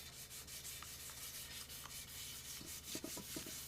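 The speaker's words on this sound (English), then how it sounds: "we just got these little pieces of sandpaper, and we're going in over here, and we're doing work over here" Hand sanding of Nissan S13 wheels with small pieces of sandpaper gives a steady, close scraping rub that runs continuously throughout, with a few brighter grinding strokes near the end.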